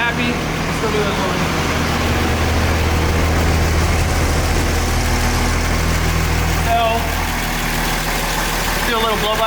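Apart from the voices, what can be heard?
turbo truck engine idling after dyno runs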